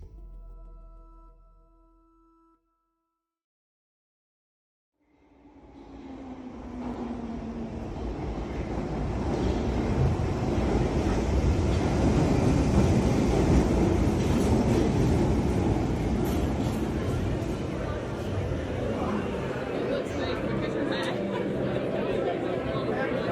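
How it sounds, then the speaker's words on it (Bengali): A passenger train bound for Leatherhead from Waterloo station rumbles along the rails, fading in after a brief silence and building to a steady, loud rolling roar with faint rhythmic clatter. "লেদারহেড যাওয়ার একটি ট্রেন ঠিক সময় পেয়ে গেলাম।"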